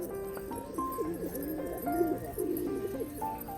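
Rock pigeons visiting a home coo in soft, repeated rolling phrases nearby, several calls overlapping against a quiet background.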